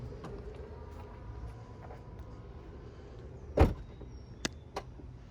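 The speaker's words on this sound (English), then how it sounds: "this is electronic, so you can push either of these buttons. This one will just close the door" The electric door of a 2020 BMW X6 M Competition closing at a button press: a low motor hum, then a single firm thud of the door shutting, followed by two small clicks, heard close in a quiet setting.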